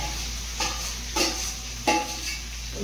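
Marinated soybean being stir-fried in a hot wok, a steady sizzle under a low hum with three distinct scrape-and-clatter strokes of a spatula against the metal, no talking.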